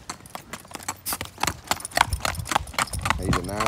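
A horse being ridden up and down a road at a horse sale clip-clops with quick, uneven hoof strikes on the hard surface, close and clear, while people talk over it.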